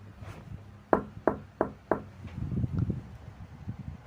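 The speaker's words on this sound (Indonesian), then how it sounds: "langsung mengetuk pintu" Someone knocks on a bedroom door, giving four sharp, evenly spaced raps in quick succession, followed by softer shuffling and low rumbling noises.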